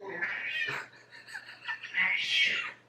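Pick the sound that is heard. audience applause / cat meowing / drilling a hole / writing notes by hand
cat meowing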